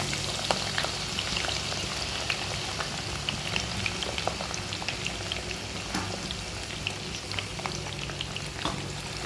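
Curry ingredients frying in oil, a close, steady sizzling bubble with scattered sharp crackles and pops throughout.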